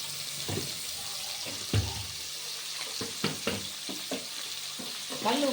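Onions frying in a pan for paneer biryani give a steady, close sizzle and hiss, broken by light clinks and scrapes of stirring, with a louder crackle near the end.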